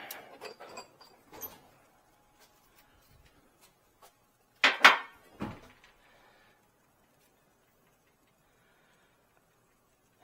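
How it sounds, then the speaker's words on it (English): Household drawers are pushed shut in a garage during an oil change on a Ford Bronco Sport, giving a quick cluster of clicks early on and then a louder double knock with a softer thump midway, all close by. "Close my drawers."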